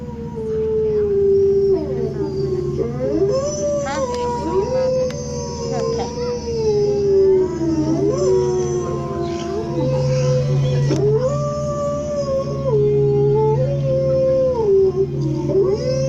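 Several wolves howl together in long, wavering, overlapping tones that rise and fall, sustained and fairly loud throughout with a steady low background hum.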